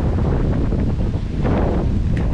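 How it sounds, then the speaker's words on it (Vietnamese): Strong wind roars steadily into the microphone outdoors during a rural honey-hunting outing, a loud continuous buffeting rumble that fills the whole moment with no voices. "Quá gió"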